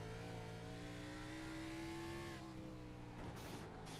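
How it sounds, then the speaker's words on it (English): Race car in a racing video game at Sonoma, its engine droning steadily at high revs while the tires scrub and strain through a corner before the pitch drops off. "You can hear that tire scrub, just kind of wanting to slide the car off into the wall."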